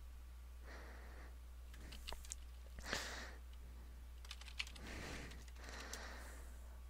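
Quiet bursts of keystrokes on a computer keyboard, short clustered clicking runs separated by pauses, faint and close, with steady low hum underneath.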